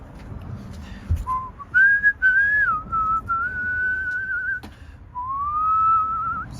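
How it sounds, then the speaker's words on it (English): A single person whistles a slow, wavering tune, loud and close inside a van, with one brief pause before the melody resumes. "whistling is uncomfortably loud"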